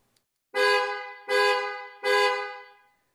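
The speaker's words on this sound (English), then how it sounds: "And now it's time to test the horn." A Ford Explorer's replacement dual-tone horn sounds three loud blasts up close, each lasting about half a second with a short gap between, the high and low tones blaring together.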